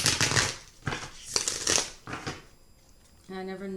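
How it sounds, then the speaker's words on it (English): Tarot decks shuffled by hand, several close rustling bursts of cards in a loose rhythm, followed by a short quiet stretch and then a brief tonal hum. "And after each read, I shuffle them again to clear them."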